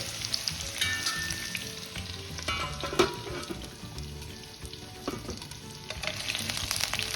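Cauliflower, potato and peas fry in a partly covered pan, a steady crackling sizzle running throughout with occasional louder pops and spatters, close and without talk.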